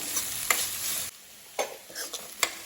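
Chopped onion sizzles steadily in a hot pan for a palak matar gravy, with a few brief scrapes and stirring clicks breaking through; the sizzle drops away for a moment before resuming.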